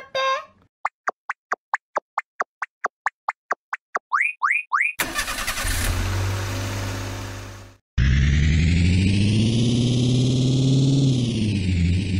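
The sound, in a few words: toy car engine starting in anime toy video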